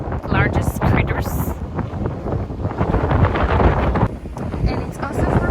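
Strong wind buffets the microphone beside a large crater in Iceland, a constant loud rumbling roar that runs the whole time beneath a person talking.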